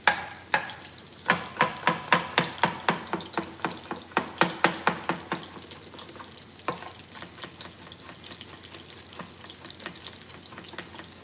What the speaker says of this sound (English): we put some garlic in here. Little minced garlic situation happening.